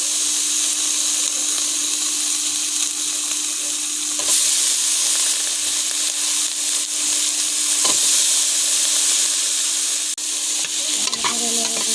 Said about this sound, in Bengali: সবটুকু কাঁঠাল দেওয়া হয়ে গেছে। এখন আমি ভালো করে নেড়ে দেবো।